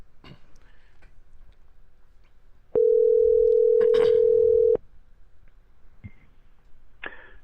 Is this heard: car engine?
no